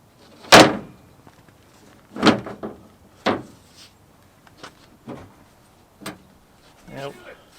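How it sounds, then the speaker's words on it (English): New tailgate insert piece on a third-generation Toyota Tacoma slid under lifted plastic trim, heard as a series of sharp plastic clunks and knocks spaced a second or so apart, close and fairly loud. "lift up this plastic piece and slide the new tailgate piece underneath that"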